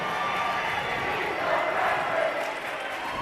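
Student crowd cheering at a high school boys basketball game during a timeout in a Travis tournament matchup against Steward, a steady, dense roar of many voices that swells slightly midway and holds throughout.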